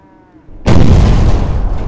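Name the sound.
muffled explosion sound effect in audiobook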